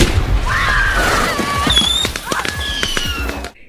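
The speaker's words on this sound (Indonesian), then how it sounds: "petasan itu meledak" A firecracker bursts inside a trash bin in a scene from the 2016 film Emelie, heard as loud, sharp pops with ringing tones and a dense film soundtrack around them.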